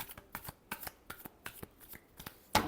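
A deck of tarot cards is shuffled by hand in a quick series of soft, crisp riffling flicks, close and alone, ending with a sharper slap as the deck comes together.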